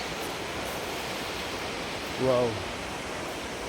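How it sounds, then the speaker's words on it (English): Flowing water from a tall waterfall at Mau Mau cave in Embu, Kenya, a steady broadband rush filling the whole clip, with a brief exclaiming voice cutting in near the end. "You can hear the sound or the flowing of water."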